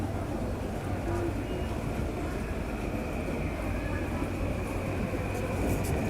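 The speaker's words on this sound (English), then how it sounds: "What is that sound? Train. It's a train." A train rumbles steadily past nearby in a Tokyo street setting, a continuous low roar holding at even loudness throughout, with people talking over it.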